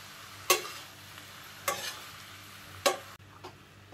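Fried dhokla pieces are tossed in a pan with spices, with three sharp scraping stirring strokes spaced about a second apart over a faint, low sizzle; no one speaks.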